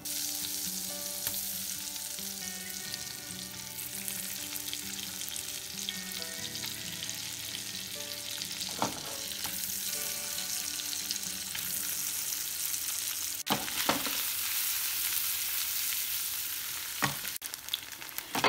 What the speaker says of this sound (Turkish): köftelerimi kızartmaya başlayacağım